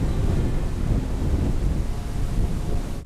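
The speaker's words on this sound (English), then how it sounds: "It's a windy day today, huh?" Steady wind gusts buffet the microphone at a boat dock beside a Seawind 1600 catamaran, a continuous rough roar without a break.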